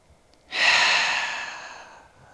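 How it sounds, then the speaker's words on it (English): A single long exhale during a trauma-informed yoga practice, breathy and fairly close, starting abruptly after a brief quiet moment and slowly fading over about two seconds, with no talking. "Last inhale and exhale here."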